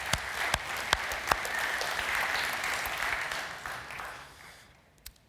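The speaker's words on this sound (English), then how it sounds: "So I think a round of applause for Patrick, please, because he's been fantastic to us." At the Rejuvenation Startup Summit 2022, an audience gives a talk's speaker a round of applause: a few sharp separate claps start it, dense clapping swells and holds, then fades away near the end.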